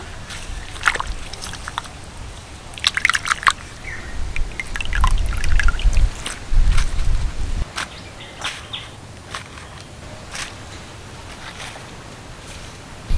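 Cut pumpkin leaves washed in water, with sloshing, pouring and dripping in uneven bursts close by, loudest in the middle and trailing off to light trickles.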